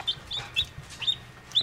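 Several short, high chirping peeps from newly hatched chicks repeat irregularly, small calls close by with a faint low rumble underneath.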